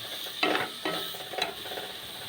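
A coriander chutney mixture with garam masala is stirred in a hot pan, with a soft sizzle underneath and a few scraping strokes standing out close by and no talk.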